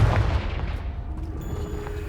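A blasting spell cast in a fantasy wizarding game detonates with a loud booming explosion that rolls off into a fading rumble and scattered debris over about two seconds.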